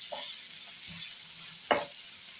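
Ripe plantain slices frying in a pan give off a soft continuous sizzle, with a few brief scrapes and stirring clatters from a utensil; no one speaks.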